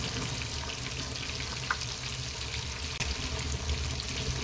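Fish fries in hot oil with curry leaves, a close, continuous crackling sizzle with a few small pops and no talking.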